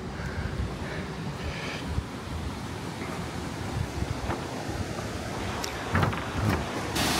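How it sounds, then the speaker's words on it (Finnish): Constant broadband rush of water from waterfalls on Madeira, with a steady roar and wind buffeting the microphone, no voices, occasional brief bumps of handling noise. "Täällähän on vesiputouksia ihan."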